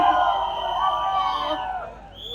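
A large crowd at a film trailer launch for Deva cheers and shouts loudly, a dense, sustained roar of voices with whoops that fades slightly toward the end.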